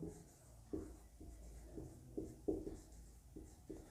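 A pen writes the word "responsible" in a run of short, faint scratching strokes with small taps between them, close by and quiet, with no talk.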